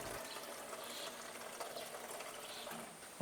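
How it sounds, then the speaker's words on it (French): A tap on an atmospheric water fountain runs into a sterile flask as about half a litre is drawn, a faint, steady trickling hiss that continues throughout. "Puis il prélève environ un demi-litre dans un flacon"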